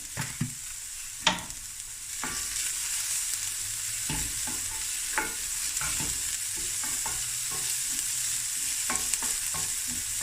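Garlic sizzling as it fries in oil in a pan for a traditional Cape Malay pumpkin bredie, a steady close frying hiss with a few sharp clicks of stirring and no talk.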